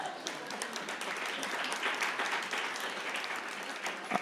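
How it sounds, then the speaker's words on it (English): Steady crowd applause at a startup pitch competition, a dense wash of many hands clapping at moderate distance, holding an even level throughout. "Let's give her a big round of applause."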